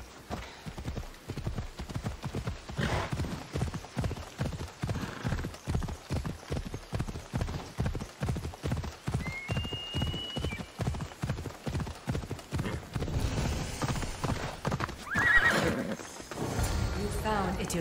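A horse gallops in Assassin's Creed Odyssey, its hooves beating a steady, rapid clip-clop rhythm from start to end, with a brief whinny in the middle and a faint voice in the background.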